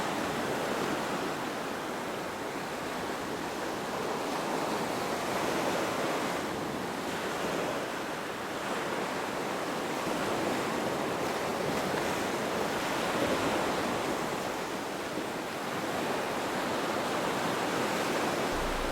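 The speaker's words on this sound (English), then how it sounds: "those waves were just too high coming over the jetty" High ocean waves crash over a jetty in a steady, roaring wash of surf with wind noise across the microphone, continuous and loud throughout with no voices.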